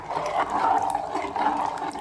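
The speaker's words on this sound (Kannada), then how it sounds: "ನನ್ನ ಈ ಕುಕ್ಕರಿಗೆ ಮುಕ್ಕಾಲು ಭಾಗ ಬಂದಿದೆ ನೀರು" A steady stream of water pours into a metal pressure cooker, gurgling and splashing up close for a couple of seconds.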